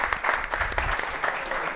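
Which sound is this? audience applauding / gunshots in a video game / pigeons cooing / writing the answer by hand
audience applauding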